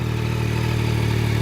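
A Yamaha R9 three-cylinder motorcycle engine idles steadily through a stock exhaust, a constant low, even rumble with no voices.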